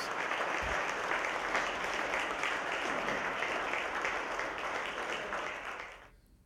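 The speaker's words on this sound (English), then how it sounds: "a round of applause is the least he deserves" Applause from a crowd at a charity fundraiser, a steady dense wash of clapping heard alone that fades out at the end.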